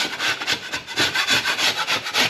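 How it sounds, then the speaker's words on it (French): Wood being sanded by hand for a dressing's finishing work, brisk back-and-forth rubbing strokes in a quick even rhythm, close and clear with no talk. "En vrai, j'aime bien poncer."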